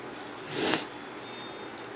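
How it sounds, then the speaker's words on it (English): One short, sharp nose sniff, close and clear, over a quiet room. "Sorry about the sniffles."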